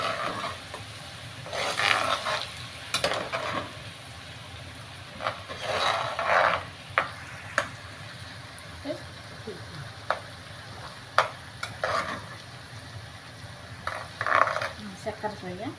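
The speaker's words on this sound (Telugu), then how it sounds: "ఇప్పుడైతే అల్లము తెల్లగడ్డల పేస్ట్ అండి. ఇదైతే పచ్చివాసన పోయినంత వరకు వేపుకోవాలి." Ginger-garlic paste frying and being stirred in a pan for a chicken pickle, giving a soft steady sizzle with intermittent scraping bursts and sharp utensil clicks, with a voice speaking between stirs.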